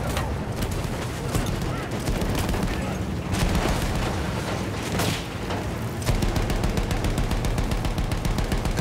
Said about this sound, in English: There's a field gun.